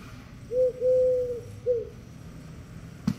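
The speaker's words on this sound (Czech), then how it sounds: "To je špionský holub." Spy pigeon in the Polda 7 video game giving a few soft, hollow coos, one short, one long and drawn out, then another short one, clear against a quiet background.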